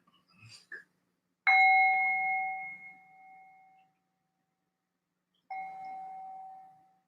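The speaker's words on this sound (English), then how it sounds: "There really is something to this freaking bell." A bell is struck twice about four seconds apart, each a clear, resonant ring that hums on and slowly fades, after a few small taps at the start and with no talk.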